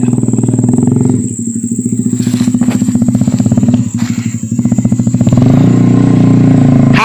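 A bulldozer stuck in a rubber plantation revs its engine hard, a loud, steady, throbbing diesel roar that holds near and constant throughout with brief dips and surges.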